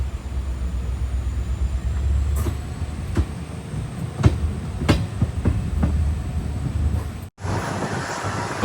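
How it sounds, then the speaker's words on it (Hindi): A train pulls out of Munabao station, India's last railway stop near the Pakistan border, bound for Barmer: a steady low rumble with periodic clanks of wheels over rail joints and wind buffeting, dropping out briefly near the end. "हमारी ट्रेन यहाँ से निकल चुकी है।"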